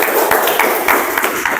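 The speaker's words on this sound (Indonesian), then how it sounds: "Tepuk tangan untuk filmnya" A classroom of students claps for a film they have just watched, quick irregular hand claps close by, short and fairly loud.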